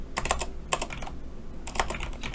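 Computer keyboard typing during data entry in Excel, quick clusters of close keystrokes in short bursts with brief pauses, crisp and moderately quiet.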